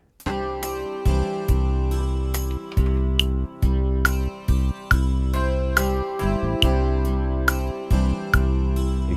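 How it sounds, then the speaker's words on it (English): A Korg i3 keyboard plays a rhythm pattern with sustained chords and regular percussive hits, while its metronome clicks along in time in the background, with no voices. "You can hear the metronome in the background, helping you to keep time."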